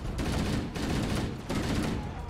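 Rapid gunfire bursts in Halo 1, loud and dense, with three sustained volleys separated by brief gaps over a couple of seconds.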